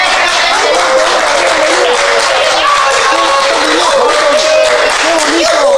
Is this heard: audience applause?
yes